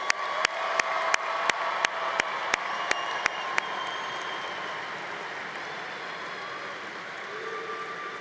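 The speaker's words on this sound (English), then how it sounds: "Let's give the class of 2026 another round of applause." Sustained applause fills a convocation hall for the graduating class of 2026 at the Newhouse ceremony, a steady broadband wash of many hands with a few sharper claps near the start.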